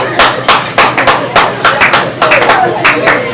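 Audience clapping in a French comedy show, loud and close, with a rhythmic run of distinct claps at a steady pace, from a small crowd rather than a dense roar.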